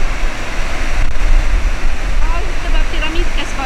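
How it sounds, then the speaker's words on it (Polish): Steinsdalsfossen waterfall by a river in Norway roars as a steady, loud rush of falling water with a dense broadband hiss, continuous and close throughout. "taki wodospad przy rzece,"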